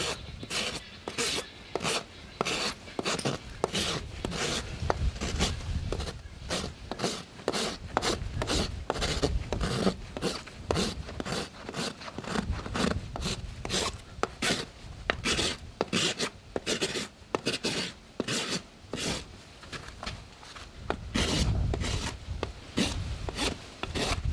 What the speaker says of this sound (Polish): przypiłowanie ściany kopyta do linii wodnej pod kątem 45 stopni, czyli tak zwany Mustang Roll